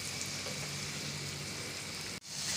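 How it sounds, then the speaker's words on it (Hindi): Mutton liver fries with light spices in a pan, a steady close sizzle and crackle running throughout with a brief dropout near the end, no talking. "कलेजी के अच्छे से भुनाई हो चुकी है"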